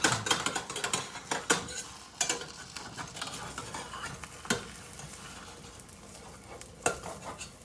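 A spatula scrapes and taps against a frying pan while an omelette cooks. Irregular clinks and sharp strokes sound close over a soft sizzle, with no talk.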